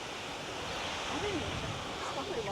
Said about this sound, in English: that's the upper waterfall